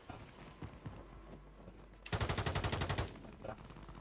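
Automatic gunfire in Call of Duty: Warzone arrives as a rapid burst of evenly spaced shots lasting about a second, loud against a quieter background of scattered game noise and thumps.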